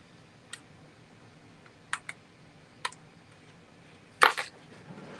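Small scissors trim part of a vintage sparkler box with a few sharp, sparse snips close to the microphone, the last cut louder and doubled, in an otherwise quiet room.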